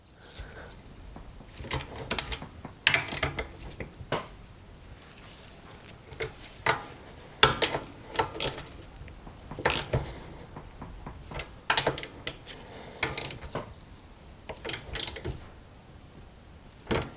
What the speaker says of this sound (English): I'll just hand tighten it up by hand with a ratchet